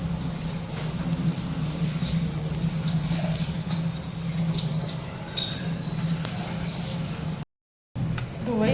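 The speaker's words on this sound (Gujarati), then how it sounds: "ફરી એકવાર ધોઈ દેવાના." Soaked dal makhani lentils rinsed in water: a close, continuous sloshing and running-water wash that stops briefly near the end, then resumes.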